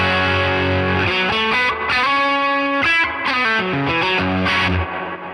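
Guitar through a Fender Tone Master Pro amp modeler cranked up, loud distorted chords ringing and changing in a steady strummed phrase, close and alone.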